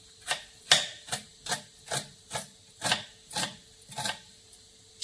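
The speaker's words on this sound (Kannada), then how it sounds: "ಈರುಳ್ಳಿನ ಒಗ್ಗರಣೆ ಹಾಕೋಕ್ಕೋಸ್ಕರ ಸಣ್ಣ ಕುದ್ದು ಕಟ್ ಮಾಡ್ಕೊತ ಇದ್ದೀನಿ" Onion is finely chopped on a board with a knife, giving about ten evenly spaced, crisp strokes in a steady rhythm, close and fairly quiet, with no speech.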